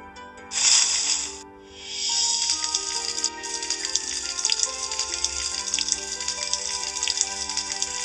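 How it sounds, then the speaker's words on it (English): A watering can pours over garden soil in the Grimm's Rapunzel mobile game, a steady splashing, hissing water sound running for several seconds over a soft, sustained musical background, with no talking. "Then drag the watering can over the soil to water them."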